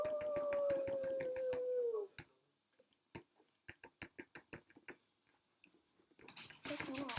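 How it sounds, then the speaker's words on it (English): A dog howls outside in one long falling wail, followed by a run of sharp knocks and taps, then a burst of noisy activity at the end, with people talking. "Oh, no, the dogs"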